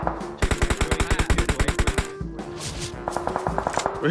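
Rapid automatic gunfire in PUBG Mobile, a fast burst of about fifteen evenly spaced loud shots, a brief gap, then a second quicker, lighter burst of shots, close and dominant.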